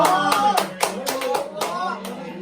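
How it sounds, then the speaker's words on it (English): Hands clap in a run of distinct, fairly close claps at a pageant question-and-answer event, mixed with harmonic vocal sounds that suggest voices or music underneath. "applause."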